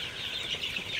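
Sonali super hybrid chickens on a small Faridpur farm at night give a brief burst of busy, overlapping clucking, moderately close, with no talking.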